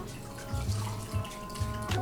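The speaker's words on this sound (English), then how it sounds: "I have some lukewarm water here in a bowl, and I'm just gonna rehydrate the mask to get it off." Lukewarm water in a bowl sloshing and splashing in short bursts, close and fairly quiet, as it is scooped up to rehydrate a face mask during skincare, with no talking.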